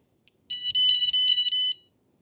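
A Vanguardian van security alarm sounds a loud electronic bleep pattern, about six rapid tones in one burst lasting just over a second, close by, with near silence before and after.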